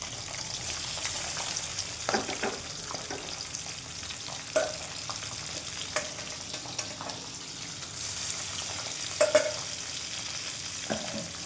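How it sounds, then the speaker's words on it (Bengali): Papda fish fry in a pan at home, giving a soft, steady sizzle with faint crackles and a few louder clinks and stirring knocks, fairly quiet and close. "এখন মাছগুলি ভাজা বসাবো"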